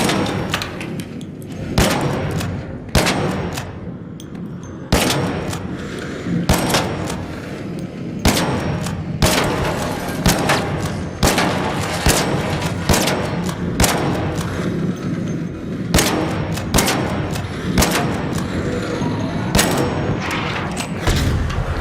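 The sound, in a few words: gunfire in a video game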